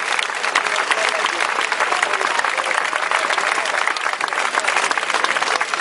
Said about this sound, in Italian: Riprendiamo l'applauso al nostro Pasquale.